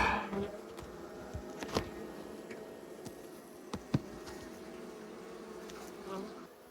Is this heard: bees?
yes